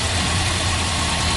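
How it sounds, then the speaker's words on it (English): A Volkswagen engine idles roughly with the cylinder 2 spark plug wire pulled, a steady close, loud low rumble that keeps going without a break through the whole short stretch. "if you unplug cylinder number 2, it actually runs really, really bad. It just like kill the motor."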